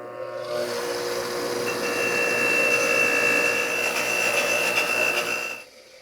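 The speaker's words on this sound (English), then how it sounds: "We'll give this a quick cleaning with the soft wire wheel before we put it back." A soft wire wheel on a bench motor whirs steadily against a custom headlight housing for a Yamaha TRI-Z 250, a continuous close buzzing drone with a higher whine that spins down and stops near the end.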